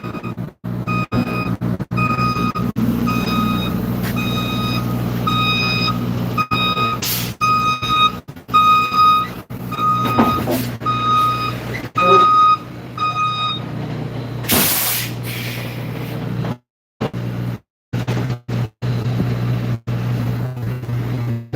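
A yard dog truck backs under a trailer and lifts it on hydraulics, with a repeating reverse beeper pulsing over steady engine rumble, broken by air hisses and clunks before going quiet.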